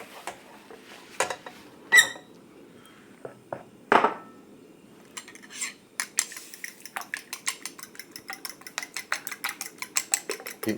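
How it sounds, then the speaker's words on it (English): A wok wiped out with scraping, clattering strokes of utensil against metal, sparse sharp knocks early and then a quick run of rhythmic scrapes, close and fairly quiet with no talk. "But I'm just going to wipe out my wok."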